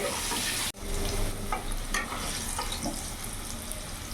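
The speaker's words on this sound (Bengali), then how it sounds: "আলুগুলো আমি লাল লাল করে ভেজে তুলে নেব।" Potatoes fry in hot oil seasoned with turmeric, a dense steady sizzle that briefly drops out after a sharp cut, then resumes with occasional crackles and utensil taps.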